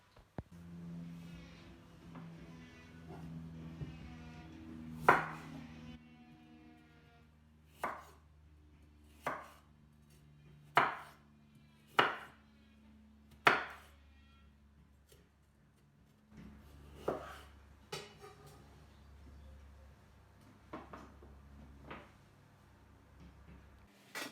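Knife chopping carrots on a board in a kitchen, a handful of separate sharp close thuds spaced a second or two apart, quiet in between.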